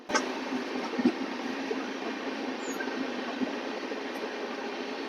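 A passenger train approaching Bhusawal Junction in the evening, running late, gives a steady, even rumble and hiss with a few faint clanks along the way.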